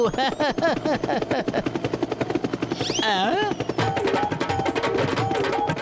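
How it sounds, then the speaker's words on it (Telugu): A cartoon helicopter approaches with a rapid, rhythmic rotor chop that holds loud and close, mixed with cartoon music and effects. "ఒక హెలికాప్టర్ ఇటువైపే వస్తోంది"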